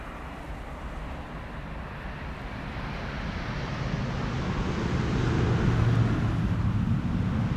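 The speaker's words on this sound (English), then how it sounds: "Now about to touch down after 10 hours and 39 minutes of flight." A Boeing 777-300 airliner touches down at Amsterdam Schiphol on runway 18R in windy weather, with a broad, rising engine and wind roar that grows steadily louder as it nears, and no voices.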